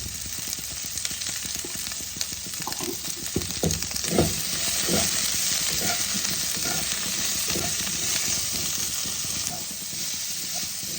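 Vegetables fried in a pan with salt and turmeric, a loud continuous sizzle and hiss with clattering stirring strokes in the first half, close up and without talk.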